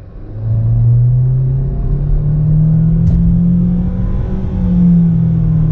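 A car accelerating along a road, its engine droning loud and close with a rising pitch that steps through a couple of gear shifts.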